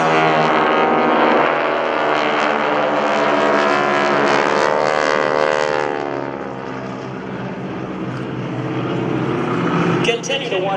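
Propeller engines of the GEICO Skytypers formation drone overhead at an airshow, a loud, rich roar that swells and shifts in pitch as the planes pass, then fades, with a voice speaking over it.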